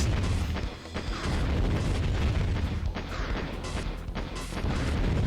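Shooting and explosions from the Wii game Ocean Commander, a dense, loud barrage of booms and blasts rumbling continuously with sharper bursts layered on top and no break.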